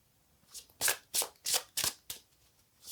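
Tarot cards are shuffled by hand in a quick series of about six crisp, papery riffles, close and clear against a quiet room.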